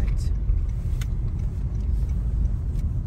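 Steady low road rumble from inside a car in Philippine traffic while following an orange car ahead, continuous and fairly loud, with faint voices and occasional clicks.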